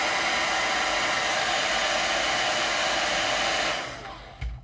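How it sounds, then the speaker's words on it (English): A hairdryer heats a Jamberry nail wrap with a loud, steady blowing roar for several seconds, then switches off, leaving a brief clunk and near silence. "I'm going to heat it up with my hairdryer."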